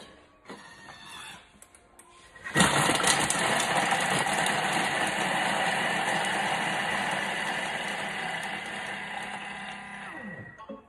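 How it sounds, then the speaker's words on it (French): A Thermomix TM6 blends carrot and coconut milk soup at speed 5, starting abruptly after a few quiet clicks and running as a loud, steady motor whir for about eight seconds before winding down; no speech. "Et on va mixer 7 secondes, vitesse 5."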